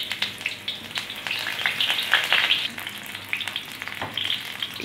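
Onions sizzle and crackle in hot oil in a frying pan, a steady close frying hiss with small pops throughout, and no one speaks.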